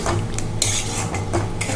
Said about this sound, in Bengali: এবার ভালো করে কষাবো যতক্ষণ না তেল না বেরিয়ে আসবে